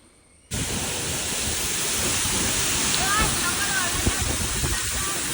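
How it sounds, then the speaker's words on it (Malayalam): A waterfall near a house in Calicut pours in heavy rain, a loud, steady broadband roar that bursts in suddenly and then holds evenly for several seconds, with faint bird-like chirps above it. "ഞാനും സുർക്കും കൂടെ എൻ്റെ വീടിൻ്റെ അടുത്തുള്ള ഒരു വെള്ളച്ചാട്ടം കാണാനാണ് പോകുന്നത്"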